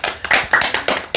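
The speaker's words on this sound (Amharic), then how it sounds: "ለዘቢብ ግን ጭብጨባ አንሷል።" A few people in an audience clap in short, sharp bursts, roughly five distinct clusters of claps close to the listener, spaced at a steady pace, with no voices.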